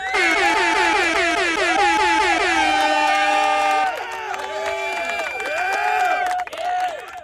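A loud air horn blasts a rapid, warbling melodic tune, then a few shorter honks follow, with crowd noise underneath.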